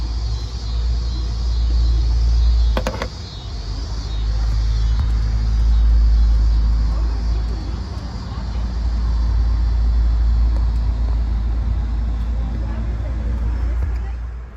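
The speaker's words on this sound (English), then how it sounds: "This is the first startup after replacing the turbo." Ecotec engine on a Buick Encore running just after a turbo replacement, a steady, loud low rumble that swells and eases slightly over the whole stretch.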